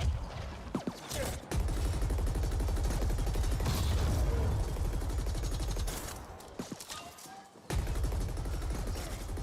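Enemy gunfire in the sci-fi shooter The Ascent on PC: dense, continuous bursts of rapid shots and booms with mechanical clatter, loud throughout with brief gaps, under in-game and talking voices.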